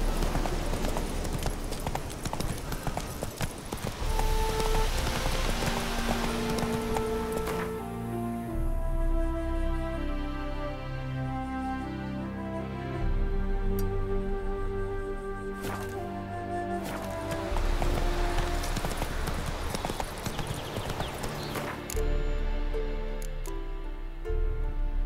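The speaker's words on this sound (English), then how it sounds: "Come on, Roach." Steady hoofbeats of a horse in The Witcher 3 video game clop along under a layer of game music, fairly continuous at moderate loudness.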